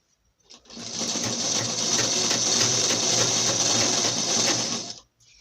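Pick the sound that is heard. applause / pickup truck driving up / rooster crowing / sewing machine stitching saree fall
sewing machine stitching saree fall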